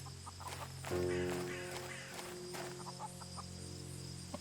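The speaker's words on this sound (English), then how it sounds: "I can hear a chicken." A chicken clucks in the medieval survival game Nested Lands, a few soft clucks over a steady droning in-game ambience with sustained tonal hum and occasional faint clip-clop-like taps, no talk.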